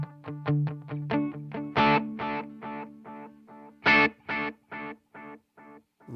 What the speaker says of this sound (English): Great sounding delay.